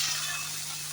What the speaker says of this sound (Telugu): తాలింపు అందులో వేసేసిన తర్వాత కొన్ని నీళ్ళు వేసి సుయ్యమని సౌండ్ వస్తుంది